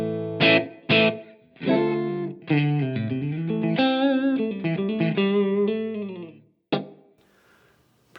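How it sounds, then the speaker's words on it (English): An electric guitar played through a Strymon Iridium pedal set to emulate a Fender Deluxe Reverb amp rings out alone: a few sharp plucked notes, then sustained distorted chords with reverb tails, a final stab and fading decay. "at the moment it's set on the round setting, and that is emulating a Fender Deluxe reverb"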